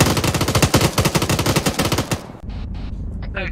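Rapid automatic gunfire in the military shooter game Arma 3 rattles in a dense, loud burst for about two seconds, then stops abruptly, leaving quieter background noise with a few faint sounds.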